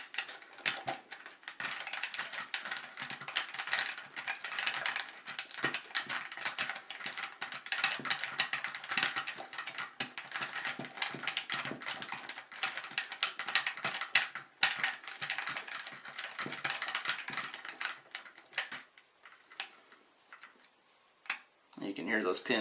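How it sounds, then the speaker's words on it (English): Paperclip picks working a pin tumbler lock, with dense rapid metallic clicks and ticks from the pins springing back as tension is released, close and continuous throughout. "You can hear those pins springing back when I let go of the tension."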